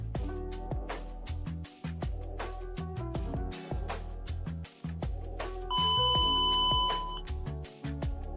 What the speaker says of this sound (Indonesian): Buzzer kita sudah menghasilkan suara dengan frekuensi 1000 Hz, menyala selama 1 detik dan mati selama 1 detik secara berulang